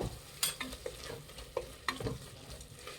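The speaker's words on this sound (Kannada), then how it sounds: "ಮಸಾಲೆ ಎಲ್ಲ ಚೆನ್ನಾಗಿ ಫ್ರೈ ಆಗಿ ಎಣ್ಣೆ ಬಿಟ್ಟಿದೆ" Biryani masala with garam masala frying in oil in a pan for egg biryani, heard as a faint, close sizzle with scattered clinks and scrapes of stirring.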